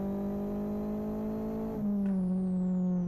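Aggressive-sounding engine of a modded car in the Live For Speed racing sim, droning steadily at close range before the pitch drops sharply as the revs fall off into the overrun.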